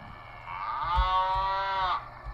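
At a drive-thru, a person imitates a cow with one drawn-out, nasal moo lasting over a second, close and clear, with no talking around it.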